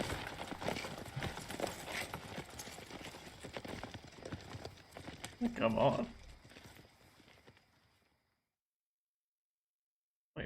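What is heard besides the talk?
horse hooves galloping in video game Red Dead Redemption 2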